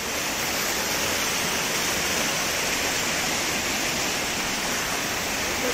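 Maredumalli waterfall roars in a dense, steady wash of rushing water, close and unbroken with no voices.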